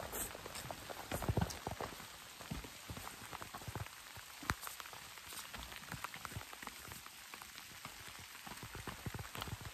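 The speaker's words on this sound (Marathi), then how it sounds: "नेमका पाऊस आला." Rain falls onto outdoor steps, giving a continuous close patter with frequent sharp drop splats throughout, heard alone.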